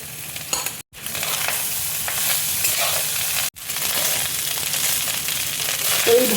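Rice and fried egg stir-frying together in a pan, a steady close sizzle with scraping stir strokes, briefly cut off twice.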